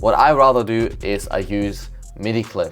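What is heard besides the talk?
No distinct noise like a dog, phone or traffic.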